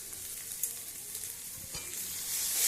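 Cumin powder sizzling in hot mustard oil for a small-fish curry, a steady frying hiss with faint stirring that swells slightly louder toward the end, no voices.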